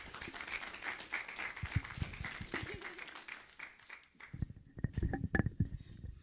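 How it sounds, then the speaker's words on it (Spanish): Applause before an academic talk on environmental noise, moderately loud and fairly close for about four seconds, then tapering into scattered claps and room noise. "Entonces démosle un aplauso para que pueda comenzar con su ponencia."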